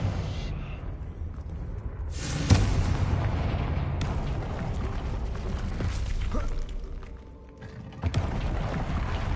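Blasting curse explosions from the Confringo spell in Hogwarts Legacy, a heavy boom near the start followed by sustained rumbling blasts and debris, with a second sharp burst later, loud and close with game ambience throughout.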